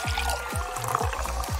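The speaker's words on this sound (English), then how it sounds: "I'll just pour another drink." Soda pours into a glass with a loud fizzing, bubbling rush, steady throughout with repeated glugging pulses from the bottle and no talk.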